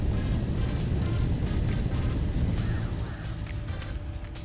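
Powered wheels drive a vehicle in the destruction game Instruments of Destruction, giving a loud, continuous rumbling roar with a rough low texture that eases slightly toward the end, with no talk.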